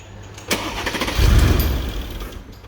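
A 2012 Mercedes CLS 63 with 137k km cranks briefly and then catches, its engine firing into a loud, steady rumble up close that holds for a second or so before easing back.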